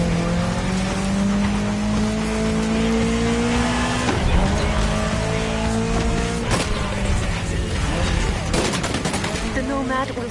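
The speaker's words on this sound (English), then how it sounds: "we decided to go wild and bold for this scene with the Ariel Nomad buggy" An Ariel Nomad buggy driving in The Crew Motorfest, its engine note rising steadily, then interrupted by sharp impacts and bursts of rapid crackling near the end, with some talk beneath.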